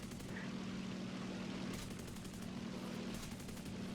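Aircraft machine guns chatter in steady rapid fire over the droning propeller engine of a Ki-44-II Otsu fighter in War Thunder, a constant loud hum with rattling bursts layered on top.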